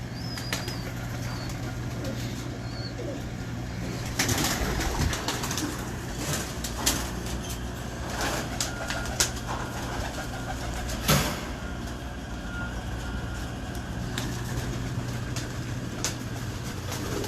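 Pigeons at a breeder's loft, with repeated bursts of wing flapping and soft cooing over a steady low hum of nearby traffic or engines, several sharp flutters standing out, no speech.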